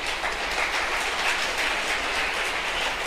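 A church congregation applauds together in a dense, steady burst of clapping that fills the space evenly from start to finish, with no voices standing out.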